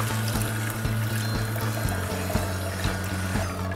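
Water runs through a Kuvings EVO820 slow juicer during cleaning, a steady close pour layered over the motor's low hum with regular rhythmic clicks from the rotating auger.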